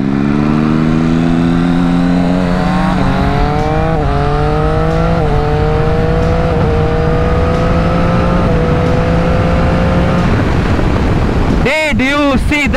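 A Ducati V4 motorcycle accelerates hard through a run of quick shifter gear changes, its engine note climbing in repeated steps with brief dips at each shift, loud and close, ending in a short burst of wind buffeting.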